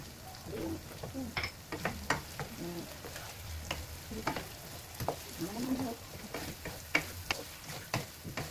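Pakbet vegetables with squash are stirred in a pan, the spatula scraping and clattering in irregular strokes over a steady low sizzle, close and clear with no talking.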